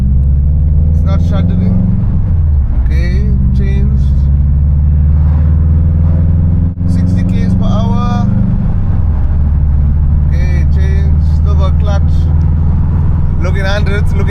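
A car drives on the road in 4th gear, its engine a loud, close, steady drone that rises and falls in pitch with throttle changes, while a person talks over it throughout.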